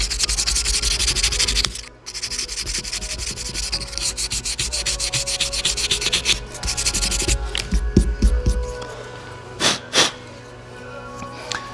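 Hand sanding a timber clarinet-style water insert with 400 grit sandpaper, rapid close rasping strokes in steady rhythm, with a brief pause early and a few lighter scrapes and taps near the end.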